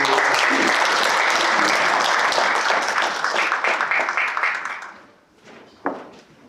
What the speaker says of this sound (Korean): 다시 한번 큰 축하의 박수